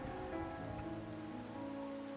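Steady rain falls on surfaces in a video game scene, a soft continuous patter with a low background tone. No one talks.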